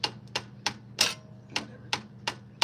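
Impact wrench on a Chevy 305 V8 from an El Camino being torn down: eight sharp rattling bursts in a steady rhythm, close and loud over a low background hum, with no talk.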